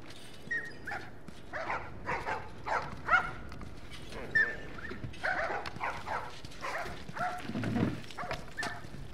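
A dog in The Last of Us video game barks and whimpers in repeated short yips and whines, fairly close and spread over several seconds.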